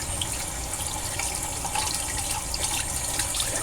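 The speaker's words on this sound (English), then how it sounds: "Just rinse it off with warm water." Warm tap water runs steadily from a faucet to rinse a horsehair shaving brush, a constant close splashing hiss that lasts throughout with no one speaking.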